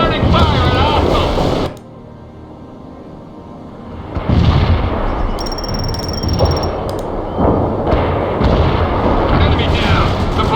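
Heavy gunfire and artillery from armored vehicles, including a Bradley, in the World in Conflict video game. Loud booming blasts and bursts of fire come in waves, with a quieter lull partway through and a radio-style beep over the battle noise.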